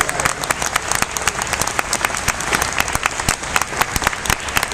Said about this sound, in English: We give a huge round of applause.